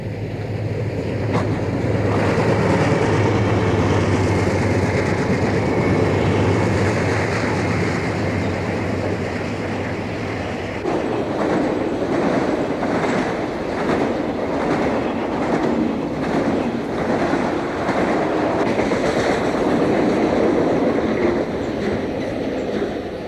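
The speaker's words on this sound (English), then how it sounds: "the dispatcher crosses a hotshot 189 over to the north track" An ATSF hotshot freight train crosses over to the north track on the Arizona main line, a steady loud rumble with low engine drone giving way to rhythmic clickety-clack of wheels over rail joints.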